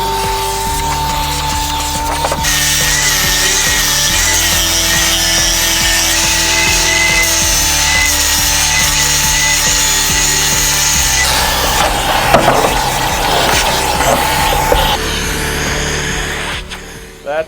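A handheld power sander runs continuously against wood inside a boat cockpit, giving a loud, close, steady whine and grinding rasp that shifts slightly in pitch as pressure changes.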